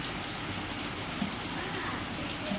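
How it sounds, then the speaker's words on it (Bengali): Heavy rain falls outside as a dense, even hiss that stays steady and unbroken throughout, with no voices over it. "বাইরে প্রচণ্ড বৃষ্টি হচ্ছে আজকে"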